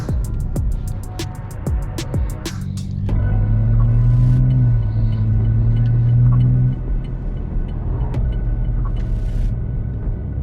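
A 2023 BMW M4 drives along, its engine a low, steady rumble that rises into a louder, sustained drone through the middle before easing back, with light road noise and no talking.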